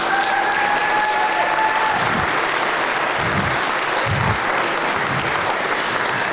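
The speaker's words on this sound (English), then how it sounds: "Give them a round of applause." A high school jazz night audience gives a round of applause for the tenor, alto and trumpet soloists, a full steady wash of clapping with a few low thumps and faint voices under it.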